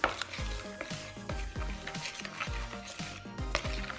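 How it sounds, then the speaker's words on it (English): A glue and water mixture for slime is stirred in a container, giving quiet, rhythmic scraping and sloshing strokes about twice a second, close up and without speech. "Then you're gonna stir that up really well."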